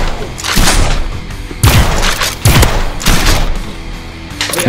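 Nerf Rival Curveshot blasters firing during a Nerf battle: several loud, close bursts of launching and impact thumps in quick, irregular succession, with light background noise between shots.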